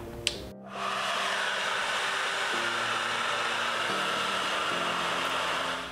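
A Sutra Accelerator 3500 blow dryer clicks on and settles into a loud, steady, close whoosh of motor and airflow that runs unbroken for several seconds, with no speech.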